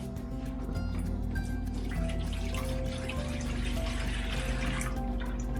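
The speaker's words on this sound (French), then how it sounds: "il faut que tu mettes un plat à salade ou un chaudron en dessous parce que sinon l'eau coule directement à terre" Water from a spin dryer pours down into a salad bowl or pot below it, a continuous loud splashing, trickling flow with a steady mechanical hum underneath and no voices.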